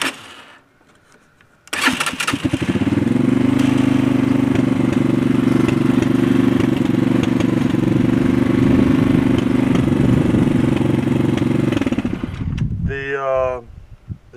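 An ATV engine fitted with an upgraded CDI and larger tires starts up and runs at a steady, loud idle close by for about ten seconds, then cuts off abruptly before a short burst of sound at the end.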